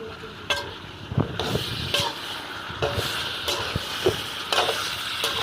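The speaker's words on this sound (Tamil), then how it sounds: "நல்லா சிக்கனை கிண்டி விட்டுக்கலாம்." Chicken being stirred through sizzling masala in a pan: a low frying hiss broken by repeated scraping strokes and light spoon knocks at an uneven rhythm, close and moderately loud, with no talking.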